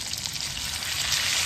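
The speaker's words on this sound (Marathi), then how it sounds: "आपण याला फ्राय करूया आजूबाजूने वगैरे." Fish frying on a wood-fired clay stove, with a short, steady, close sizzling hiss.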